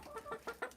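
Backyard flock of chickens clucking in a short run of four or five soft, rhythmic calls at moderate distance, with no talking over them.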